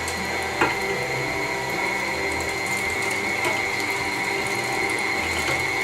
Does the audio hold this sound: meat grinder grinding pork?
yes